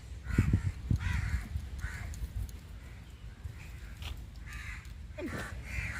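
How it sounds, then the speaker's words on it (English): Crows cawing among coconut trees at an outdoor camping spot, several harsh calls scattered over steady background noise, moderately close. "Lot of crows here, man."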